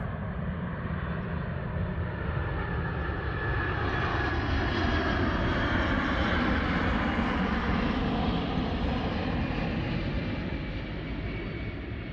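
An airplane passes low overhead on the approach path to the airport in Almaty, its engine roar loud and continuous throughout, swelling slightly in the middle.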